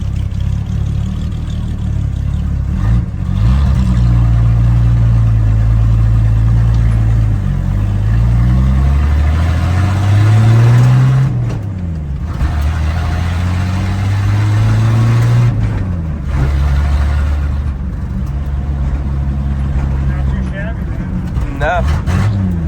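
Rat rod car with a new exhaust revving up and down repeatedly, a loud, close, rough low rumble rising and falling in several long pulls, with brief drops back toward idle between them.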